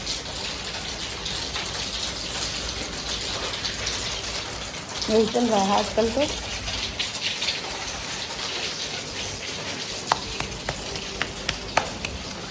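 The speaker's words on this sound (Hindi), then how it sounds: "फिर से बारिश शुरू हो गई" Rain falls steadily on surfaces around a home, a continuous soft hiss with scattered drops, with a short burst of speech partway through.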